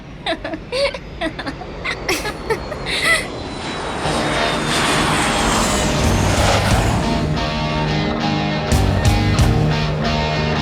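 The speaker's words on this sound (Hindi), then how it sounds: "फाइटर प्लेन का टेक ऑफ भी देख लूंगी।" A fighter jet takes off at an airbase, its engine building from scattered sounds into a loud, sustained roar that holds steady to the end.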